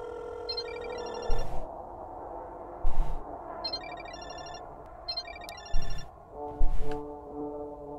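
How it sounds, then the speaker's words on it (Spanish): A cell phone rings in a video game, heard as repeated short electronic ringtone chirps in spaced bursts, moderately loud over a soft background hum and occasional thumps. "El sonido del celular de Azuka"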